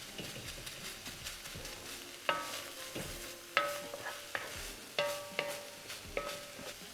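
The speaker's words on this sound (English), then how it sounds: "So right now you can hear sizzle," Onions stir frying in oil in a pan, a soft steady sizzle under a series of sharp metallic clinks and scrapes from a utensil striking the pan every second or so, close and fairly quiet, without talk.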